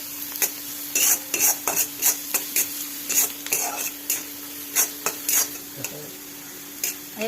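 Onion being sautéed in a pan until pink, for Satara-style peanut mhadya: a steady close sizzle broken by roughly a dozen sharp spatula scrapes and stirring strokes, no voices.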